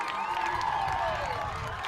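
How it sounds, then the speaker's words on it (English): A crowd cheers and roars steadily at a high school varsity boys soccer sub-district final between Crete and Lincoln, a dense continuous wash of voices with whistles and shouts rising over it. "the crowd goes wild on that one"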